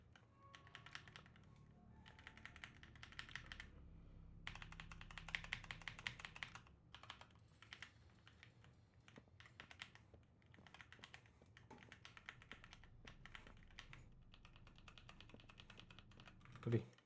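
Close typing on a computer keyboard, a steady stream of light rapid key clicks with short pauses, quiet and continuous, with faint speech and game sounds murmuring underneath.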